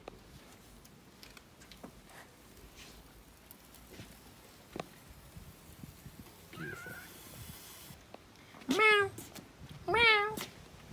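A domestic cat meows twice in clear, wavering cries near the end, close by, after a stretch of quiet outdoor ambience with faint scattered taps and rustles.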